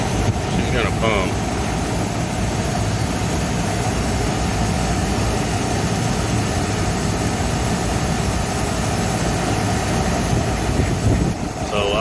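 A Carrier Weathermaker package heat pump runs with a loud, steady, close mechanical roar and hum that stays constant throughout, while people talk faintly underneath.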